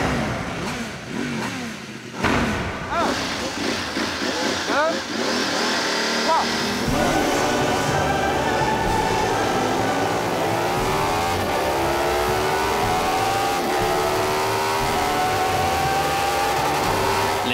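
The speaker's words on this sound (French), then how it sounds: "L'histoire de la moto dépend du résultat de cette course d'accélération." Ducati 998S and MV Agusta F4 750 sport motorcycles rev hard and scream through rising gears in a drag race, with a spoken voice over the engine noise during the first few seconds.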